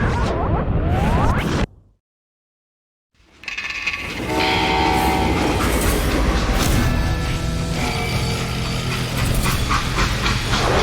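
Steam locomotive and freight train in a Western-themed video game, a loud rolling rumble with horn-like tones that cuts to silence for about a second, then returns as a dense, steady roar of rail noise.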